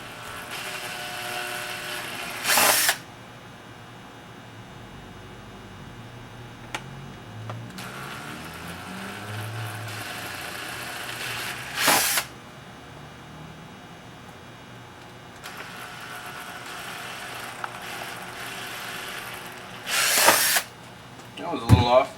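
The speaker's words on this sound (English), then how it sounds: "drill the hole through." A power drill whirs through an RC car skid plate in three short bursts spread apart, with quieter stretches and some low talking between them.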